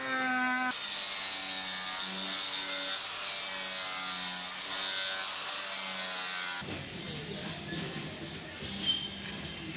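Steady rasping and scraping as the edge of an aircraft engine cowling is trimmed during a Viking Aircraft 130 engine installation, continuous for several seconds, then shifting to a quieter, rougher cutting texture near the end.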